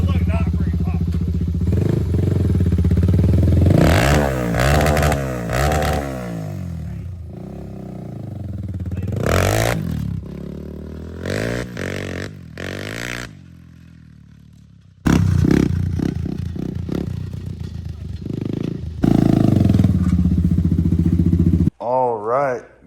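A Honda ATC 440EX three-wheeler with a 350X frame and a 400EX big-bore motor is ridden nearby, its engine revving hard in rising and falling bursts with clattering between throttle pulls, and voices can be heard.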